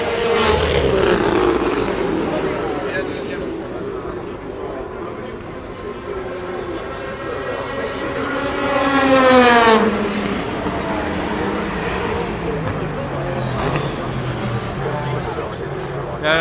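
Le Mans 24 Hours race cars, a Porsche among them, roar past at night in 2016, one rising and falling in a clear pass around the middle, under continuous spectator talk and a constant engine drone.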